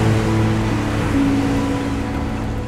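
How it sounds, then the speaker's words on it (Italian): Stormy Adriatic Sea in a force 7 gale, heard as a continuous rumbling wash of waves with a steady engine-like drone beneath, loud and unbroken for the whole stretch. "L'Adriatico è attraversato da una burrasca forza 7."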